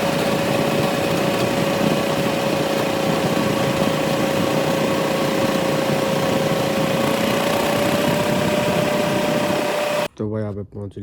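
A tractor in a farm field runs with a loud, steady engine drone and a constant high whine for about ten seconds, close by, before cutting off abruptly.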